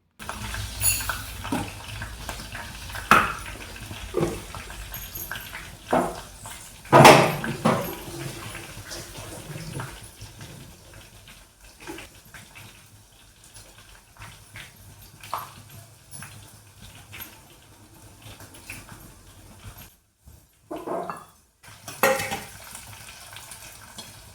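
Fenugreek greens tempered in a pan on a gas stove, soft sizzling under intermittent stirring, clinks of utensil against the pan and occasional clatters, with a quieter stretch midway; close and moderate.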